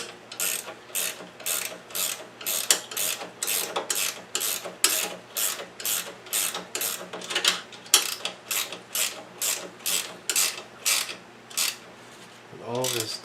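A ratchet wrench tightens the pedal and steering mounting bolts on a go-kart, producing a long run of rhythmic, evenly spaced clicking strokes, close and steady, with a brief murmur of a voice near the end.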